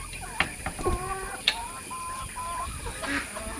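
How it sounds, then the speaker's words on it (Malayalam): Rooster clucking and calling in short bursts near a farmyard, with other fowl chatter and a steady background hum; no voices. "ഒരു പൂവൻ എന്തോ പറഞ്ഞോണ്ട് ഓടിപ്പോയി"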